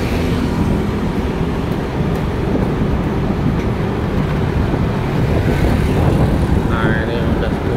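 Steady broadband traffic noise from motorbikes on a two-way transmigration road rushes continuously at moderate distance, with someone talking over it.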